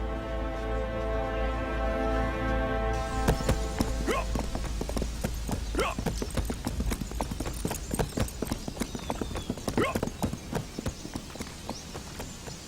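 Horse hooves clip-clop at a fast, steady pace in a Chinese period drama. The hoofbeats stay loud and close over a sustained musical score, with no talking.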